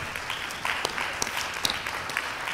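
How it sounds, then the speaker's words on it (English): Audience applause at a political rally speech, a moderate, steady patter of clapping with scattered sharper claps, filling the room at mid distance. "Let's give them a round of applause."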